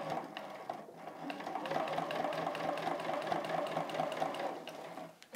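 A sewing machine stitches steadily along excess quilt binding, a continuous close mechanical whir with fine rapid needle rhythm that runs alone for several seconds before briefly pausing at the end.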